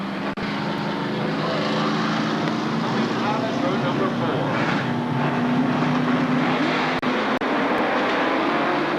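Race cars in a racing video game roar steadily around Shadybowl Speedway at a 1996 fall classic, a dense continuous engine drone filling the whole stretch while a commentator talks over it.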